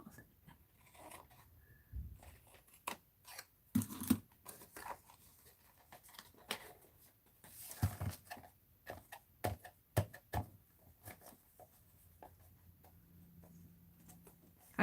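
Paper is trimmed with scissors in a quiet craft session, giving irregular sharp snips and crisp rustles scattered across the stretch, close and soft, with no speech.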